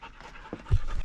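Dogs on a mountain hike panting nearby, a few short breathy huffs building to a louder burst near the end, close and alone without speech.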